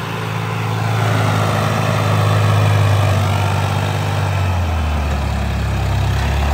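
A 55 hp tractor engine pulls an 8-foot super seeder in a field, a loud, steady, close diesel roar whose low hum drops in pitch near the end as the revs sag under load, with no talking.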